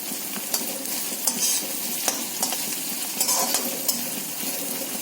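Green chillies hit hot oil in a pan while cooking a fish curry, giving a steady close sizzle with a few sharp stirring clinks across the five seconds and no talk.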